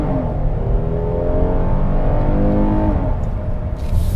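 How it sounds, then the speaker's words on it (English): A 2021 Kia Telluride SX AWD's V6 engine revs close by with a deep, growling roar, pitch climbing and holding for a few seconds before easing off. "that V6 sounds pretty good. It has a nice growl to it."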